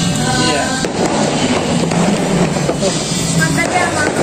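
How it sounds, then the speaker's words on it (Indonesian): Firecrackers going off around a neighborhood on New Year's Eve, a dense, continuous crackle and pop filling the whole stretch with loud bursts layered over one another and voices mixed underneath. "Jadi sekitar-sekitar sini mulai ada yang main petasan-petasanan."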